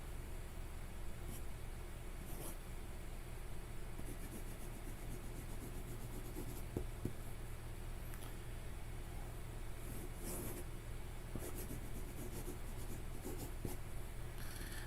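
Faint scratchy strokes of a Yobo broad nib pen loaded with Diamine Shubert ink dragging across paper, coming in short irregular bursts over a steady low background hum.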